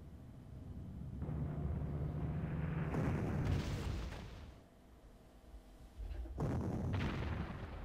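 Heavy booming gunfire and explosion bursts from a Panzer I tank in the Panzer Corps war strategy game, a loud rumbling blast swelling midway, a dip, then another strong burst near the end, with no talking.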